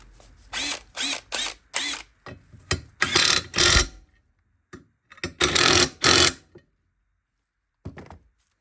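During the rear brake rebuild on a Hillman Imp, a brake adjuster is fitted with a series of close, sharp ratcheting clicks and metallic tool bursts, separated by pauses and ending in a faint tap.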